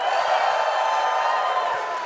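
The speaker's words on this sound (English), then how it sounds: "So when you see or hear something you like, I need you cheering, all right?" Audience cheering and whooping at a PAX East 2025 developer panel for Mafia: The Old Country, a loud, sustained roar of crowd noise with no pauses.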